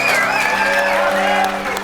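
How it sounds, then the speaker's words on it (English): Audience applause and cheering for Ben Smith at a live event, a dense, loud burst of clapping sustained over the whole moment with voices mixed in. "Everybody, a round of applause for Ben Smith"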